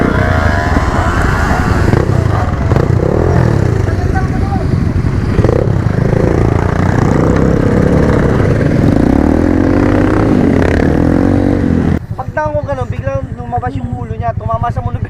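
Enduro motorcycle engines on a trail ride between San Nicolas and Itogon drone and rev loudly and steadily up close; near the end the engine noise drops and a voice talks over it.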